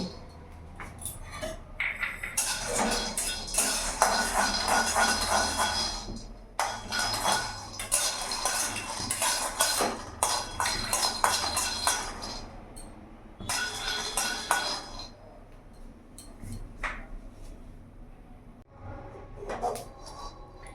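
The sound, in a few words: peanuts being dry-roasted in a wok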